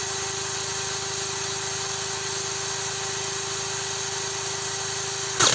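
A SharkPro Arctic 190 cordless drill runs at its third speed setting, a loud, steady motor whine with a constant high tone that holds unchanged for several seconds, then cuts off abruptly.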